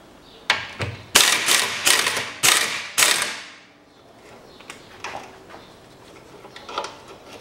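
A ratchet wrench loosening a nut on the front control arm of a 2007 Toyota Camry XV40 2.4, five loud sharp clicking bursts in quick succession, then fainter scattered ticks and clinks.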